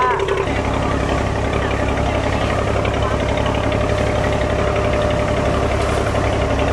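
A ferry's boat engine runs steadily during a ride to Cheung Chau, a loud constant low droning rumble with vibration filling the whole stretch, with voices over it.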